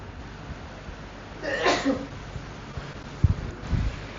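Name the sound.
sneeze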